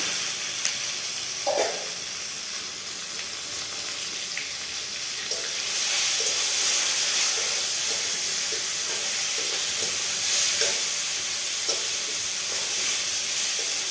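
Mango and okra with two dried chillies and panch phoron fry in hot oil, making a bright, steady sizzling hiss that swells louder partway through, with a few soft clicks and knocks.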